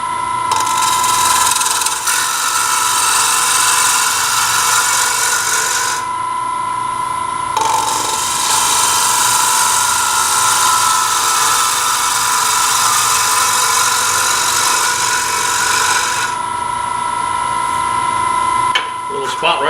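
A wood lathe spins steadily while a bowl gouge rides the bevel and cuts a bowl, giving a continuous whirring scrape that grows harsher in two long cutting passes and eases between them, with a voice faintly present.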